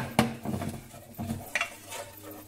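Utensil scraping and knocking in a pan as flour is stirred into melted butter, a few irregular clinks and scrapes at moderate volume with no talk.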